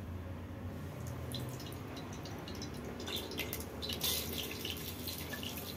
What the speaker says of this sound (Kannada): ಕುಕ್ಕರ್ ಬಿಸಿ ಆಗಿದೆ. ಆಯಿಲ್ ಬಿಟ್ಕೊಡೋಣ.